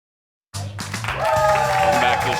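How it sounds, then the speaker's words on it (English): A studio audience applauds during a talk show taping. The clapping rises suddenly after a silent start and settles into a steady, full wash of crowd applause, with a tonal musical element underneath. "Thank you for clapping over there, Kendall."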